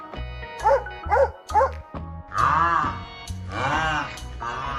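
A dog barks and yips close by, starting with several short, evenly spaced barks and moving into longer, drawn-out whining bark calls that fill the rest of the stretch.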